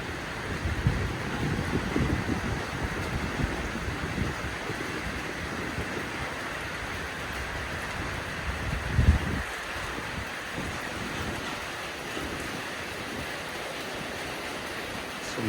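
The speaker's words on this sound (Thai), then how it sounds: "บรรยากาศฝนตก" Steady broadband rain hiss falls throughout a morning scene, a continuous wash of drops with no voices and one brief soft bump near the middle.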